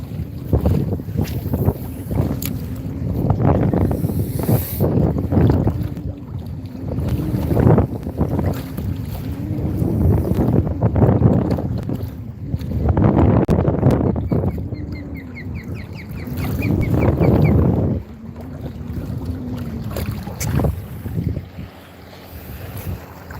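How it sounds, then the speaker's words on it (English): Steady wind buffeting the microphone in gusts while fishing, with rushing low rumble swelling and fading, and faint water and boat noise in the background. "Oh, it's a lot windy"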